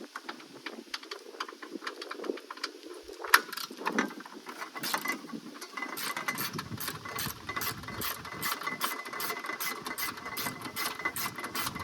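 A ratchet loosening a 10mm headlight bolt on a 1996-2002 third-generation Toyota 4Runner, heard as rapid, close mechanical clicking that runs steadily through most of the clip with a brief knock partway in.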